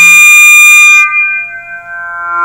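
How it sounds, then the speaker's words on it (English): A synthesized wavetable built from added sine waves plays as a loud, bright sustained tone of stacked pure partials; the upper harmonics drop away partway through, leaving a softer, gently wavering tone. "what if I'd like to hear my entire wavetable play left to right, not just the envelope, RAM wavetable?"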